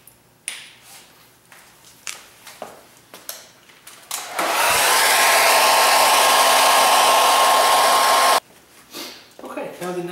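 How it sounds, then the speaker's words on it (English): Hair dryer blowing on touch-up paint on a car: a loud, steady roaring whoosh runs for about four seconds, cut off abruptly, with handling knocks and clatter before and after. "I'm going to hit it with the hairdryer once again"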